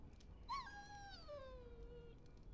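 A dog's whimper in the Dragon Age Origins video game: one high, drawn-out whine that starts sharply and slides slowly downward over about two seconds, clear above a quiet low background.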